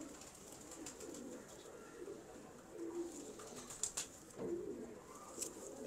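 Pigeons coo softly in repeated low, rolling calls over a steady background hush, with a few brief higher chirps scattered through.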